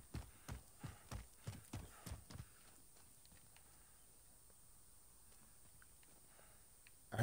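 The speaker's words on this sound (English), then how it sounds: "I heard footsteps." Footsteps crunching through woods in Warzone, a quick series of about ten distinct steps that fade after a few seconds into faint background ambience.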